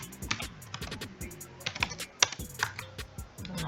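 A computer keyboard being typed on to enter terrain dimensions in a modelling program, a quick close run of sharp key clicks ending in a firmer keystroke, with no talking.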